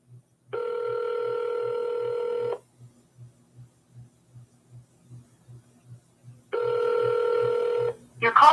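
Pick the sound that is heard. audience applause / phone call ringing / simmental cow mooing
phone call ringing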